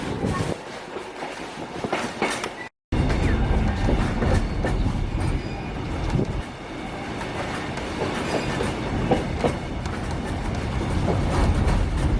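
Kuranda Scenic Railway train rolling along its tracks, a steady close rumble of wheels and carriage noise with faint clatter throughout, broken by a brief silent gap near the start.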